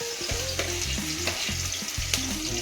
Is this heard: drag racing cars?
no